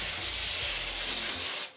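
Cooking spray hisses steadily onto a baking pan for brownies in a home kitchen, one continuous close burst that cuts off at the end.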